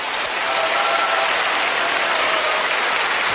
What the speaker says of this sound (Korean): 제가 박수를 받아야 될 게 아니고